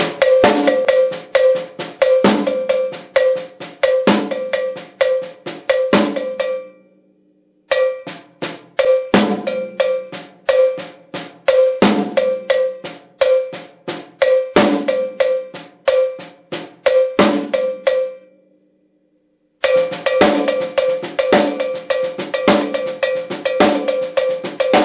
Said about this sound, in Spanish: todo el mundo usaba este paradiddle invertido con cencerro